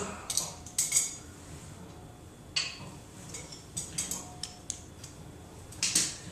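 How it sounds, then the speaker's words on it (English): A speed wrench backs bolts out of an engine timing cover, giving sparse, close metallic ratcheting clicks and light clinks in short bursts with quiet gaps, no talking. "I busted out my old speed wrench"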